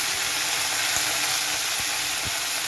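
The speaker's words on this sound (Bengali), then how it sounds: "এবার কড়াইতে তেল দিয়ে আমি আলুগুলো প্রথমে ভেজে নেব।" Potatoes are frying in oil in a wok with a steady, even sizzling hiss, broken by a few soft knocks.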